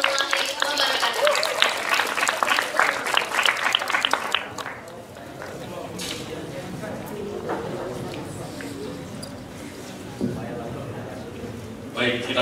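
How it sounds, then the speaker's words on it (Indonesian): Applause at a corporate award ceremony, a lively burst of many hands clapping close and loud that ends abruptly after about four seconds, giving way to quieter room murmur and voices. "kita berikan tepuk tangan sekali lagi untuk Pak Nanas."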